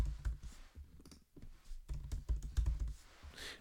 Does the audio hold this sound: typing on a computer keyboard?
yes